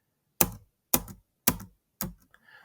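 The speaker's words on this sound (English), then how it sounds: "I'm pressing spacebar to change the speed" Spacebar presses on a computer keyboard while changing the game speed in Tetris Remastered: four evenly spaced, crisp clacks about half a second apart, close and isolated against near silence.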